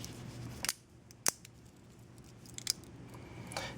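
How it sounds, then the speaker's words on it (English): Leatherman Micra scissors snipping through a small tube to a 19mm length, a few sharp, quiet clicks spaced apart against a low background hum. "So cut a 19mm length tube."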